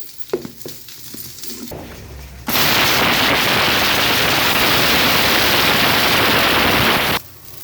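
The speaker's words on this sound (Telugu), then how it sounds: "అంతలోపు మనం మిక్సీ పట్టుకుందాం." A mixer grinder powders roasted drumstick leaves for spice powder, a loud continuous whirring roar that starts abruptly after a few light clicks and handling knocks, runs steadily for about five seconds, then cuts off.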